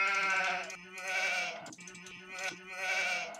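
Sheep in a video game bleat in long, wavering cries, about three loud drawn-out calls one after another with short gaps between them.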